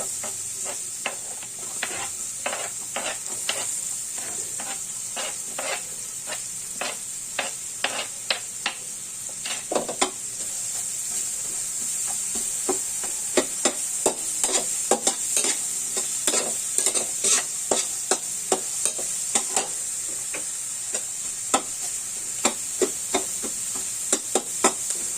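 Onion and garlic sizzle in a pan while being stir-fried for vegetable fried rice: a continuous bright hiss broken by frequent sharp clacks and scrapes of a spatula, close and busy throughout.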